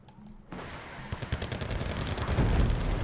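Battle in the Wargame: Red Dragon campaign, with booming artillery fire and scattered shots that start after a brief quiet moment and build into a dense, rumbling barrage.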